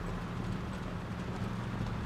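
A horse galloping in the video game Uncharted 3, a fast rhythmic clatter of hooves under a dense, steady rumble of background noise.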